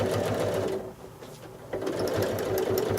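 A sewing machine stitches steadily during free-motion quilting, with a quick even needle rhythm that eases briefly in the middle as it travel-stitches back, then resumes close and loud.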